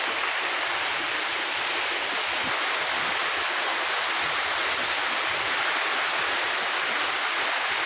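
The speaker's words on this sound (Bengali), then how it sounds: "বৃষ্টি হইতেছে, প্রচুর বৃষ্টি হইতেছে" Heavy rain pours down at a village home during a storm, a dense, steady roar of falling water with no letup, loud and close.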